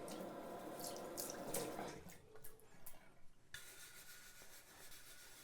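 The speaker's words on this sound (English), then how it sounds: "I have this horsehair shoe brush, which is really soft, and I'll just brush the design off" A soft horsehair shoe brush scrubbing over a wet woodblock print: faint, close, watery swishing and rubbing strokes, louder at first and then lighter and more broken, with no talking.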